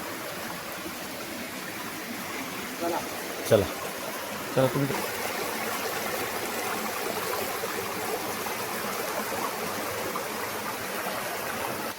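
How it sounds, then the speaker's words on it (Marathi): Waterfall water rushes down into a stream with a steady, broad hiss that fills the whole stretch, and a couple of brief knocks and a short spoken phrase rise over it. "वॉटरफॉलचं पाणी बघा हे आता इकडे असं खाली येते"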